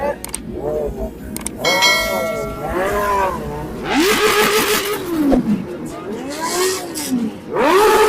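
A big motorcycle engine revs hard again and again in rising and falling surges, loud and close at a street gathering of large bikes, with people talking in the background.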